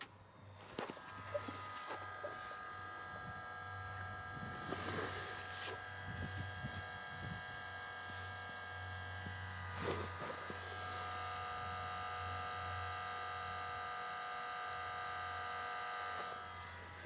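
An electric fuel pump on a 1989 Ford F250 gives off a faint, steady high-pitched buzz and whine, with a few quiet clicks and knocks as it runs.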